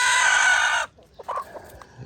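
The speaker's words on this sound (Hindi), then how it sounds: "ये मुर्गी क्या कर रही है, ये सील मुर्गी है" A hen on a farm lets out a loud, sustained squawking cry, then falls into a few short, softer clucks after a brief pause, close by with no talk.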